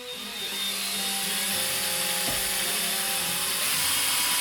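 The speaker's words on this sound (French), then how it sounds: "mais on va percer" A power drill bores into a hollow Halloween skull, its steady whirring motor rising and holding loud and close, with a brief change in load partway through as the bit pushes into the material.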